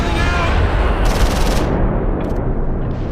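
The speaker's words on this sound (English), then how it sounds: "The gunfight in the north is 3-1 against." Dense, loud gunfire from a Close Combat 4 Battle of the Bulge clash at Baraque de Fraiture, with bursts of rifle and machine-gun fire layered into a continuous rattling fusillade over three seconds.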